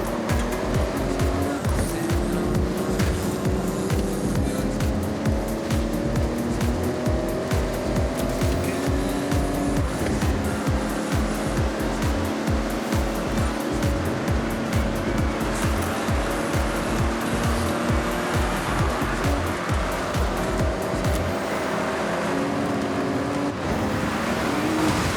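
Truck with poor brakes in Forza Horizon 6 roars continuously at close range, engine pitch shifting as it speeds and slows, with tire squeal and scraping bursts over the steady drive.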